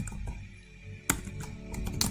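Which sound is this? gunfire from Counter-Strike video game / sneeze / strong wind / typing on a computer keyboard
typing on a computer keyboard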